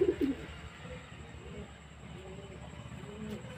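Young pigeons coo in a home loft while being handled. Low warbling coos recur softly over a few seconds with faint rustling and a dull background rumble.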